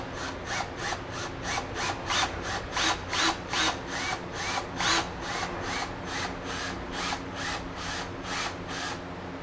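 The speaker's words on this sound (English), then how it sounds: "I'm just screwing that right in there" A power drill drives a small number 4 screw, about three-quarters of an inch long, while mounting boat navigation lights, giving rapid repeated whirring bursts close up with steady rhythm and no talking.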